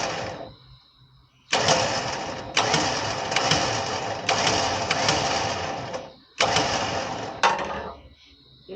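An electric winch motor reels in synthetic winch line in loud whirring bursts, starting and stopping about five times with brief pauses between runs, close to the listener.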